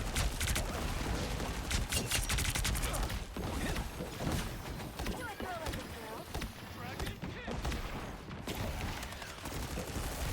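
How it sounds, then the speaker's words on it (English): Sustained rapid gunfire from holding secondary fire in the Marvel Rivals hero shooter, dense continuous bursts of shots and effects throughout a busy team fight, with a voice talking over the action. "just holding down your secondary fire in the general direction of conflict is basically all that I'm doing"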